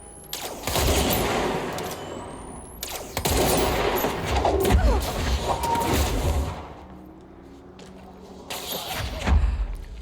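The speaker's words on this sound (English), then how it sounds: "I'ma just shoot you guys" Gunfire in the video game Control comes in bursts of rapid automatic shots, loud and close, separated by short pauses, with a final burst near the end and no talking.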